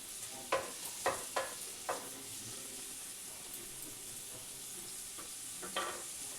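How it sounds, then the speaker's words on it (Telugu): Onions frying toward brown in a pan for a sea prawn curry, a soft continuous sizzle punctuated by several sharp spatula scrapes and stirs, faint and close. "చాలా బాగా ఫ్రై చేసుకోవాలి మనం."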